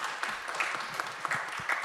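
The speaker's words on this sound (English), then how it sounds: "Please, big applause." Moderate applause from a conference audience, a steady patter of many hands with a few sharper individual claps, heard from some distance.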